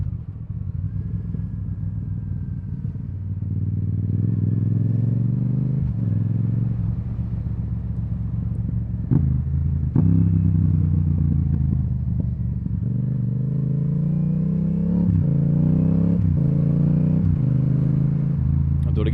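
A motorcycle engine rev-matching on downshifts: the idle is broken by several quick throttle blips, each sending the engine pitch up and back down, spaced a few seconds apart, while a rider talks over the engine.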